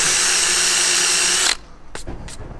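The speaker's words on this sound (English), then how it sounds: "So we're just repeating the same process, getting all the cladding together, drilling through all of them." Power drill boring through wooden van cladding: a loud, steady high-pitched whine that stops abruptly, followed by a few short knocks and clatters.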